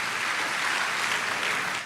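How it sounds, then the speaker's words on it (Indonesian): Church congregation applauding at a Sunday service, dense steady clapping from many hands filling the whole stretch at even loudness, with no voices over it. "Boleh berikan tepuk tangan yang paling meriah buat Tuhan."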